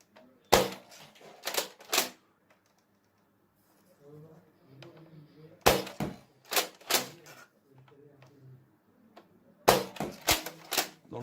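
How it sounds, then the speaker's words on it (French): A Nerf Rival Edge Saturn blaster firing AccuStrike darts: three bursts of sharp, close snapping shots in quick clusters, separated by quieter gaps with faint handling noise. "un test de tir et je tire avec des balles AccuStrike"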